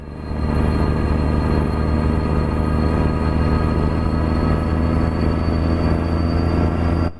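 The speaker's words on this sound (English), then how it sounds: "We'll have a listen to that jake brake." Deep, continuous rumbling engine-brake drone from a custom Cat 3412 V12 truck in American Truck Simulator, loud and steady throughout with no talking over it.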